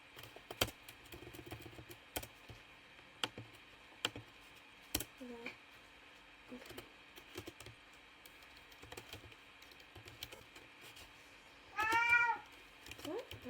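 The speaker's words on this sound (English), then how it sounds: "My cat is awake," A cat gives one clear, rising meow near the end, after a stretch of quiet computer keyboard typing and clicking in a room.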